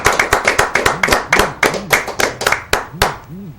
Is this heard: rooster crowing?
no